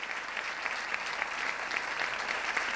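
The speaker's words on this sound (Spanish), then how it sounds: "¿Pueden aplaudir?" Dense, steady applause from a festival audience at an outdoor stage, many hands clapping continuously at an even level without pause.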